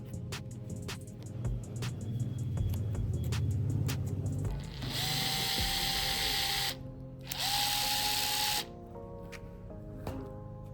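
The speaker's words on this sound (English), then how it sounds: "When in use, the shank is clamped into the drill like this." An electric drill spinning a pipe expander tool whirs in two sustained bursts with a brief pause between, mid-distance, over scattered mechanical clatter and a low background hum.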